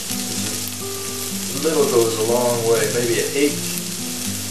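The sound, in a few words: cumin frying and being stirred in a pan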